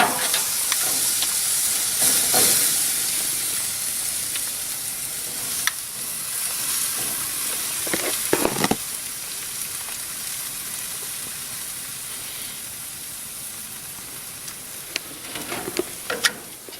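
Venison steak searing on a grill, with a steady hissing sizzle throughout and occasional sharp pops and taps from tongs, close and without talk.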